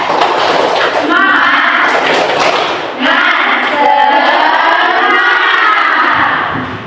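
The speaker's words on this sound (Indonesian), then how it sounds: "mari kita bertepuk semangat dulu" A school class in Indonesia clapping and chanting together in a spirit routine, loud bursts of group claps and children's voices shouting in unison, with a brief dip before the chant resumes.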